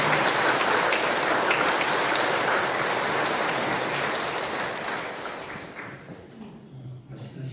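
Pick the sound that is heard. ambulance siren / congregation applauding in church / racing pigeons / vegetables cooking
congregation applauding in church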